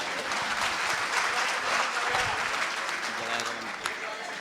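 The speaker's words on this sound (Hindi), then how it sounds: "खुल के ताली नहीं बजा रहे तो।" An audience at a Hindi poetry gathering, a kavi sammelan at a festival in Hapur, claps steadily for several seconds, a broad wash of applause heard partly under a voice.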